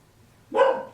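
One sharp bark from a nearby dog rings out after a quiet moment, loud and close, then fades with no one speaking.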